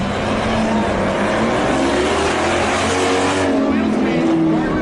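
Supercharged Dodge Charger SRT Hellcat race cars with HEMI V8s launch off the line after a burnout, a loud sustained roar of engines with some tire noise, while an announcer talks over it throughout.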